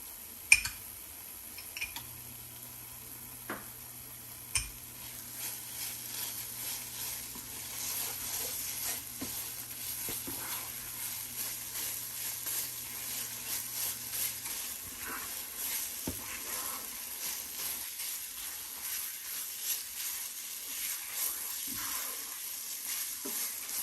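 Ghee added to a beetroot burfi mixture in a pan gives a soft, steady sizzle while a spoon stirs, with occasional light ticks and taps from the utensil, close and fairly quiet.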